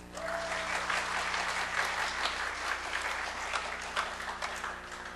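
A crowd applauds steadily in a church, dense clapping holding at an even level for several seconds with no voices over it.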